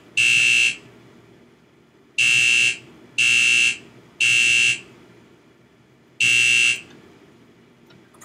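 A fire alarm drill in Minecraft sounds in loud, harsh electronic blasts, five bursts at uneven intervals with quiet gaps between, close and without any voices.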